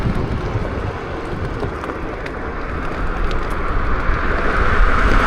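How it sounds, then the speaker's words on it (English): Wind buffets the rider of a Teverun 7260R electric scooter, a steady broadband roar that grows slightly louder toward the end, with no voices. "It's a bit windy here today"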